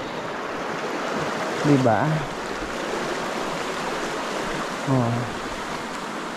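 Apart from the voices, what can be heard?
river flowing in the mountains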